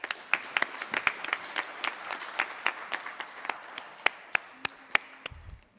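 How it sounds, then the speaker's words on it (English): Applause for speakers at the close of a landscape restoration conference session, sparse and uneven with only a few people clapping, fairly near, fading out toward the end. "Please give another warm round of applause to our speakers."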